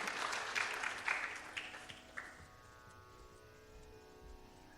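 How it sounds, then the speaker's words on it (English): Audience applause at a Bharatanatyam dance recital, a dense burst of clapping that fades out after about two seconds, leaving a quiet sustained drone. "Let us give Rahi a big round of applause for the Kalinga Nardana Tillana."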